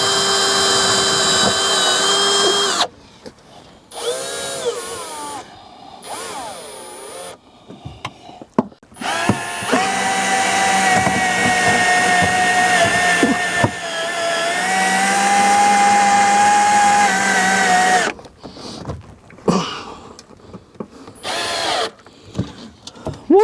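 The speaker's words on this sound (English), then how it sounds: "These are good old self-tappers. So we're gonna put as many of those in as I can." Power drill driving self-tapping screws while a Power Pole Charge is installed, with loud whining bursts of several seconds each, broken by short pauses between screws.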